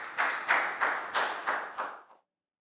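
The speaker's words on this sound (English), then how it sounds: "Big round of applause for Chu." A Year 3 maths class claps for a pupil in a rhythmic group pattern, about six loud unison bursts evenly spaced, then it stops abruptly into silence.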